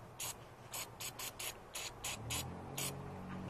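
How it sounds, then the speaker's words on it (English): WD-40 sprayed on an Old Timer 340T pocket knife in about ten short hissing bursts in quick succession, close and fairly quiet, with a low rumble underneath toward the end. "we're going to blast it with a little WD-40 here to get all the water out"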